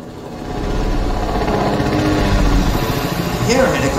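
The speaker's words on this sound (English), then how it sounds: "I hear a helicopter." A helicopter in the video game Fortnite gives off a steady, droning rotor and engine rumble that rises and holds, fairly loud, under faint game noise.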